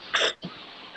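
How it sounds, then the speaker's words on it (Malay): A single short cough rings out in a classroom, sharp and fairly close, followed by a softer throat sound against quiet room hiss. "Batuk juga."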